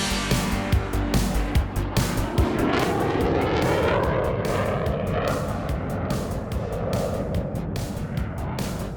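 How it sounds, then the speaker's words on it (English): Fighter jet on its takeoff run at St. Petersburg Clearwater International Airport, a loud, steady roar heard from inside the aircraft as the engine winds up and holds at full power with no speech. "We taxied to position ourselves on the runway and we began our takeoff run."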